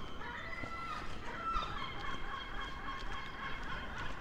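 Squawking seagull calls rise over a steady outdoor background hum in Blackpool, several overlapping cries heard at moderate distance.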